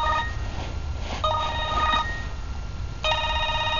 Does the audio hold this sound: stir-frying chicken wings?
no